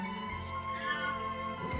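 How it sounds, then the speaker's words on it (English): A cat gives a single short meow, fairly faint, over a steady hum of game music in the background. "Yes, cat."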